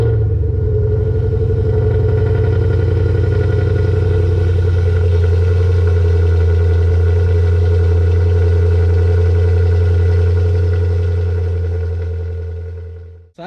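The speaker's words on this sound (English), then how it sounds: "So let me shut up and give you a cold start." A Ford Mustang S197 fitted with a Boss 302 intake idles after a cold start, a steady, loud, close-up low rumble that runs unbroken for about thirteen seconds before cutting off abruptly.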